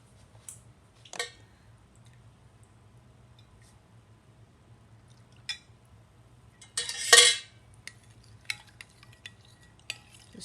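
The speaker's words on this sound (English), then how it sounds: "Stir this, cool it just a little more." A spoon stirs milk in an Instant Pot while homemade yogurt is being made, with sparse faint scrapes and clinks against the pot and one longer, louder swirl of stirring midway, quiet and close.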